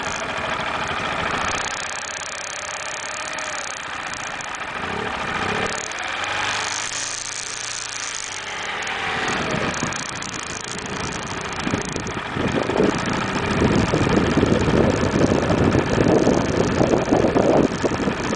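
A Honda TRF 230L motorcycle engine idles steadily on the Gibb River Road in the Kimberley, near a river crossing. The low, continuous rumble grows a little louder and rougher over the final several seconds.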